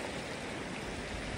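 Steady, even rush of a flowing river, a continuous broadband wash with no breaks or voices, in Brgy. Yapu, Bugasong, Antique.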